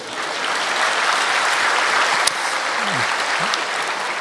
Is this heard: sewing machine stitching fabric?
no